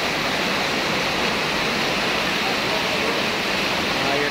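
A waterfall at Curug Cross roars with steady rushing water, a dense, unbroken wash of noise that stays loud and close throughout.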